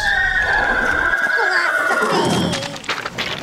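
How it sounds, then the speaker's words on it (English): A loud, close horse neigh, a shrill whinny that wavers and descends over a couple of seconds before trailing off into a snort. "The horse!"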